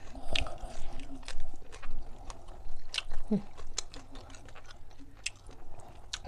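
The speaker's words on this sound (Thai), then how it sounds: "กินกระเทียม" Someone chews raw wild garlic up close, giving soft repeated crunching and wet mastication sounds in an irregular rhythm, fairly quiet.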